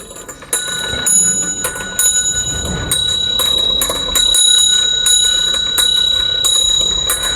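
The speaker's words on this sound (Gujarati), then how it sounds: "આ વિદ્યુત ઘંટડીનો અવાજ આપણને સંભળાય છે" A homemade electric bell, built from a copper coil converted into a motor for a classroom demonstration, rings loudly and continuously with rapid metallic clanging for several seconds, with no voices over it.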